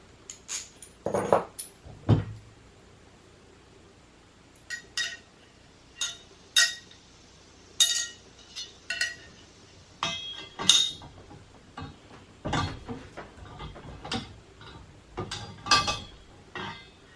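Metal washers are handled while shimming an ATV cart frame in a workshop, giving sharp scattered clinks and clacks in irregular bursts against a quiet background.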